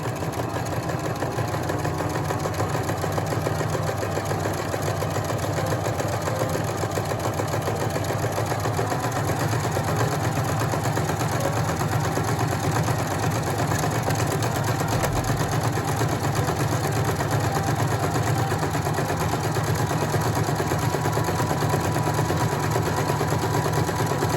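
A sewing machine runs steadily, stitching a buttonhole on a pillow placket, with a continuous close mechanical hum throughout and no talking.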